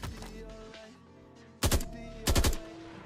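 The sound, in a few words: gunshots in a Vietnam War first-person shooter game in development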